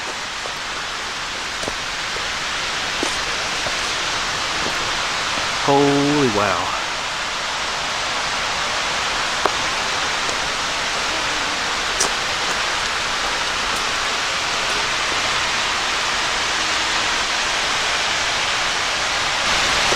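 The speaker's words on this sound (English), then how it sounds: "Oh, there's the falls." Overall Run Falls in Shenandoah National Park gives a steady, broad rushing roar of falling water from a distance, constant throughout, with a voice briefly exclaiming over it.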